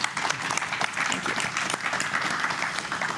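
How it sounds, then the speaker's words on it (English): A conference audience applauds the panelists of an economic security session, a dense, steady wash of many hands clapping throughout, with a brief spoken thanks underneath. "Can we have a warm round of applause for our panelists?"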